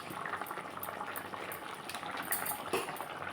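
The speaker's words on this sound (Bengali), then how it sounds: "ঢোকলাগুলো দিয়ে দিচ্ছি ফুটে গেছে" A pot of vegetarian dhokla curry simmers at a steady bubbling boil, soft and close, with small pops and gurgles and no talking.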